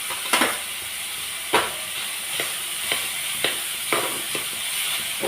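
Potatoes fry in a pan on the stove, giving a loud, steady sizzle and hiss with a few sharper crackles and scraping stirs at intervals, no voices.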